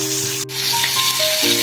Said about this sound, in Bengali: দেখুন এদিকে মাছ ভাজা চলছে,